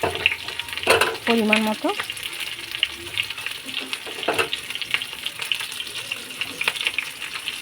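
Onions sizzle lightly in a pan with salt, giving a steady close frying hiss broken by a few stirring scrapes, while someone speaks briefly over it.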